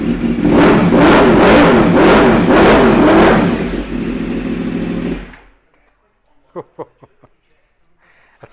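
A 2015 Yamaha R1 M1 replica motorcycle with a remapped ECU and Akrapovic exhaust fires up and revs hard in loud pulsing bursts, then settles to a steady idle before cutting off, followed by a few faint clicks.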